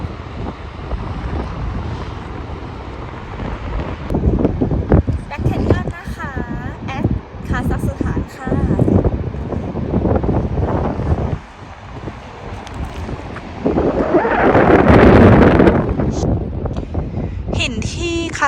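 Strong wind sweeps across Black Canyon in Kazakhstan, buffeting the microphone with a steady roar that surges loudest midway, while someone talks over it throughout.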